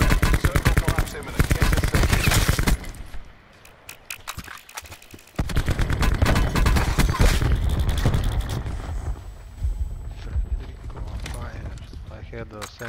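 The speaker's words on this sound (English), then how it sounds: "Somebody is shooting at me." Gunfire in Call of Duty Blackout, loud rapid bursts of shots that break off, then resume in dense volleys and fade into scattered fire, with people talking over parts of it.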